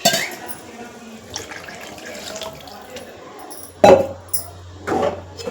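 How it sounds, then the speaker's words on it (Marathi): Water splashes from a vessel into a pan of mushroom and pea curry cooking in oil in a home kitchen, a short gush with clinks of the pan, then quieter stirring. "आता याच्यात टाकते मी पाणी"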